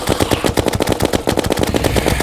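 A shark gun fires at Skeletron during a Blood Moon in a hardcore Terraria game, a loud, close, rapid machine-gun stream of evenly spaced shots that runs continuously without pause.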